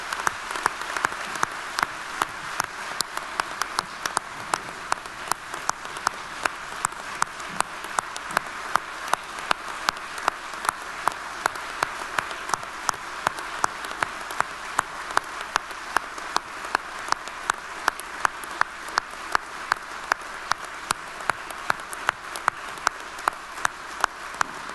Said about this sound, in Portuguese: Peço um grande aplauso